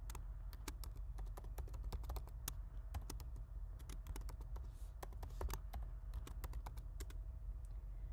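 Typing on a Mac keyboard to name a new folder: a quick, close, irregular run of crisp key taps over a low steady hum.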